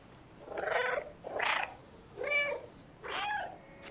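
Cat in the video game Stray meowing four times in a row, clear, close and evenly spaced, with a faint electronic tone in the background and no talk.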